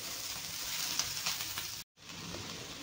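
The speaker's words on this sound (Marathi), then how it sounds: "कांदा खोबरं सगळं छान मसाला आपल्याला खरपूस भाजून घ्यायचा आहे।" Onion and coconut masala roasts in a hot pan with a steady close sizzle and a few stirring scrapes, briefly cut off before the frying continues.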